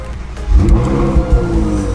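A Ferrari 458 engine running nearby, a steady loud rumble that swells in a few throaty revving surges, with no talking over it.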